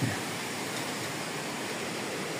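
Steady, broadband roaring rush of strong typhoon wind with heavy rain buffeting a microphone, constant and loud with no other sounds.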